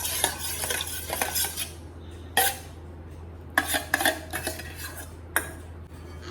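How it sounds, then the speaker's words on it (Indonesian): A spatula stirs melted margarine into sponge cake batter in a metal bowl, scraping and clinking in bursts with short pauses between strokes, close and clear, with no talking. "Aduk kembali menggunakan spatula"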